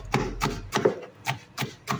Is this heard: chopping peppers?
yes